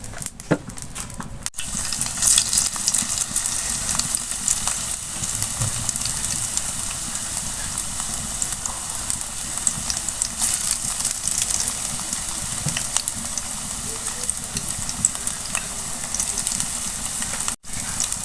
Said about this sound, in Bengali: ফ্রাই প্যানটা গরম হয়ে গেছে আমি তেল দিয়ে দিচ্ছি